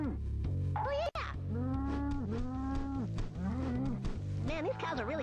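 Cartoonish cattle from the South Park N64 video game moo repeatedly in long, wavering calls, several overlapping in a busy game soundscape with a brief click near the start.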